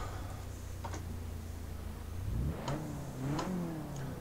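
Car drifting around Ebisu Touge in the Assetto Corsa sim: a steady low engine drone with rising revs and tire squeal building into repeated slides, moderately loud and continuous with no talk.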